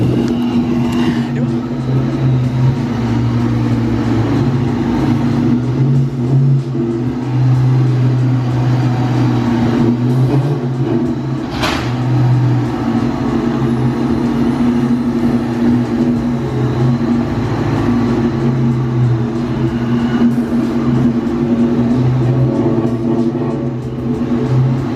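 A boosted two-valve car engine drones steadily and loudly on a dyno, a constant low rumble with slight swells in pitch throughout.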